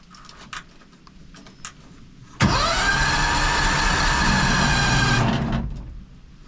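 A Cushman Trackster engine turns over and starts with a sudden burst, then runs steady and loud for about three seconds with choke and a little throttle before cutting off, preceded by faint clicks and handling noises.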